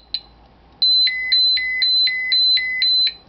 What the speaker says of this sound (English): The dose is actually high enough to trigger the alarm.